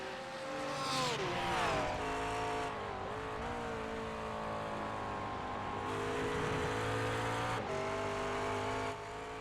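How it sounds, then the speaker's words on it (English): A VRS McLaren GT race car laps Oulton Park circuit, its engine loud and close with rising and falling revs through gear changes, a steady roar across the lap with brief shifts in pitch. "This is the final lap for Adam State in his nice VRS McLaren."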